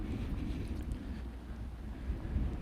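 Steady low rumble of wind buffeting a microphone outdoors on a trail, continuous and fairly loud throughout, with no voices.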